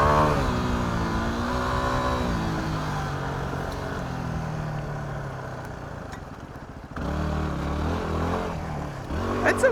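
A 2008 Yamaha WR250R motorcycle engine drones steadily while being ridden, its pitch sliding down as it slows, then a brief dip and a renewed rise in revs near the end.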